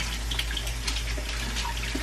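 Tap water runs steadily from a kitchen faucet as mushrooms are rinsed beneath it, a continuous close hiss and splash with no pauses.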